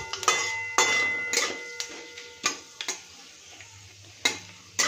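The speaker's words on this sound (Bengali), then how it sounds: "এই যে তেজপাতা, শুকনো লঙ্কা, পাঁচফোড়ন ফোড়ন দিয়ে দিলাম" Bay leaf, dried red chilli and panch phoron tempering in hot oil for a bottle-gourd greens curry, a soft steady sizzle broken by several sharp scraping stirs of a spoon against the pan, close by.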